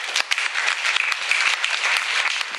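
An audience applauds a speaker with loud, dense, continuous hand clapping, close and steady throughout with no voices.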